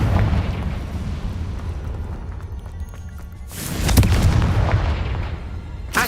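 A Confringo fire-blast spell in the wizarding game Hogwarts Legacy, a booming explosive burst that swells midway and then fades amid rumbling combat noise, fairly loud, with no voices.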